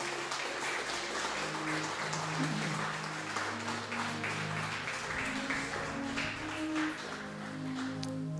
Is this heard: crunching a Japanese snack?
no